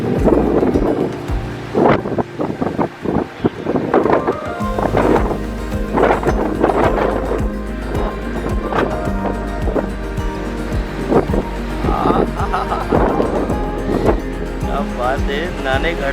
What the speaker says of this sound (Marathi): वाऱ्याने हा रिव्हर्स वॉटरफॉल झाला.